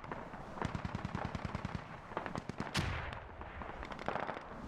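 Sustained bursts of machine-gun fire from a Russian vehicle laying down cover fire in the military shooter game Squad, rapid rhythmic rounds repeating throughout at moderate distance, with a brief louder burst midway.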